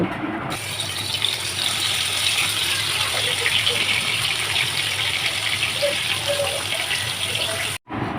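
Turmeric, chili and salt coated rohu fish pieces fry in hot oil in a wok, giving a loud, steady, bubbling hiss that runs almost unbroken, dropping out only for a moment near the end.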